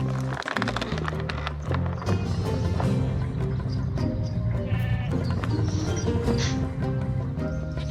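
Sheep bleating in the Skylanders Spyro's Adventure game's pasture level, repeated calls set over a loud, busy game soundtrack with steady music and effects throughout.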